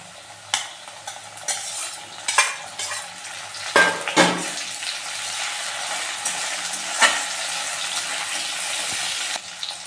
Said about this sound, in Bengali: এবার আমি দিয়ে দিচ্ছি টমেটো কুচি